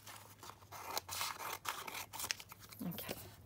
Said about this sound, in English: So I'm just going to kind of trim these down first so it's more manageable to handle.